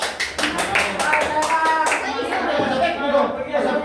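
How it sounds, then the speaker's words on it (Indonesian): A small group claps for a student during a Quran recitation lesson on alif lam ta'rif, producing a short run of distinct, uneven hand claps, with children's voices and talking mixed in. "Kasih tepuk tangan untuk Mas Taufik."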